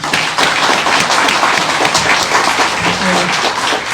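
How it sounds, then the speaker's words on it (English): Audience applause at a 75th annual Memorial Day ceremony after a keynote talk, loud dense clapping heard close up, sustained evenly throughout without any speech. "Let's give her another round of applause."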